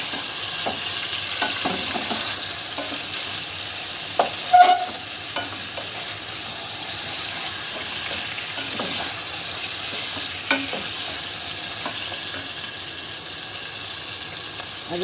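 Spring roll filling of chicken, cabbage, ginger and garlic stir-fried in a pan: a steady soft sizzle with occasional scraping stirs and light clinks, continuous and close.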